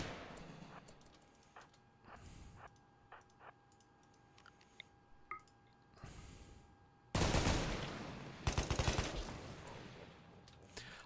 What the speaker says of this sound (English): Picard, shoot that.